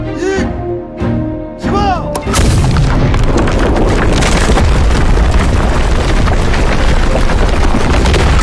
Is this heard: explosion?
yes